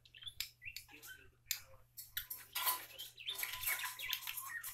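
A pet bird sings indoors, a quiet run of chirps, tweets and chattering notes, close but faint, with soft ticking sounds.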